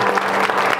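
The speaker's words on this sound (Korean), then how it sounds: "이곳에 불러주신 하나님께 영광의 박수 올려드리겠습니다" A church congregation applauds together in a steady, loud burst of clapping, dense and continuous with no voices over it.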